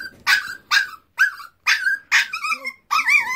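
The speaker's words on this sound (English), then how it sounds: "This goofy dog doesn't know that the cage is open." A dog shut in a cage gives a run of short, close barks and yips with brief gaps between, some turning into whiny, whimpering tones.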